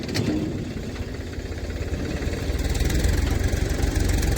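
A tractor engine idling nearby, a steady loud mechanical rumble with rapid regular pulsing that grows slightly stronger toward the end.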